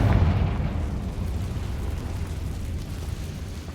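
Confringo fire spell explosion in the game Hogwarts Legacy, a booming blast that trails off into a rumbling low roar over nearly four seconds.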